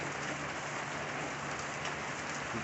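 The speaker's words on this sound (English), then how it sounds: "Of course, it's going to rain on me." Steady rain falling outside a carport in Florida, a dense even hiss of drops on the surfaces around, constant and fairly loud with no talk or other sounds.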